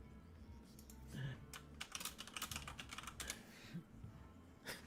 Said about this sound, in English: Typing it out again.